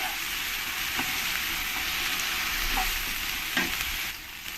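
Ginger, garlic and green chili paste stirred into spices frying in a pan for a jackfruit curry, a constant bright hiss of sizzling oil with a few soft spatula scrapes, close and steady.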